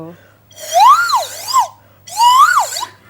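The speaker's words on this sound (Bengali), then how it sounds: "সো আমি যখন বেলুনে চাপ দিয়ে পানিটাকে উঠানামা করি তখন এক একটা ফ্রিকোয়েন্সির সাউন্ড তৈরি হয়" A homemade whistle made from a pipe and a water-filled balloon gives two loud rising-and-falling wails, each sweeping up and down in pitch like an ambulance siren, separated by a short pause.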